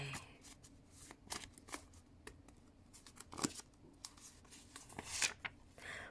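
A deck of colored tarot cards is shuffled close by in quick, crisp riffles and slaps, with irregular bursts and short gaps and no talking.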